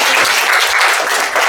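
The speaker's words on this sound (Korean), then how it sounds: "큰 박수 부탁드리겠습니다." A seated audience at a university student group discussion presentation breaks into steady, loud applause, a dense continuous patter of many hands clapping close by with no voices over it.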